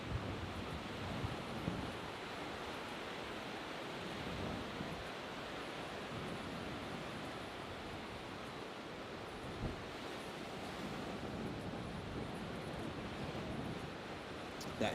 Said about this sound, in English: That hypnotizing sound of the ocean.